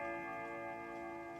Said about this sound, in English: Can you mute a clock like that?